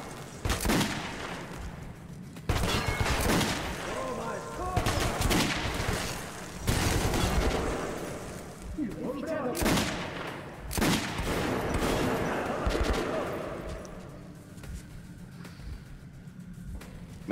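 Gunshots in Metro 2033 Redux, a string of loud sharp shots and rapid bursts with booming impacts, dense at first and thinning toward the end, with little or no talk over them.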